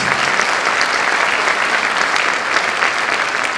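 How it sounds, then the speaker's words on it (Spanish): Auditorium audience giving a round of applause for Juan Pablo Bravo, dense continuous clapping at steady loudness with no voices over it. "por favor un aplauso para Juan Pablo Bravo"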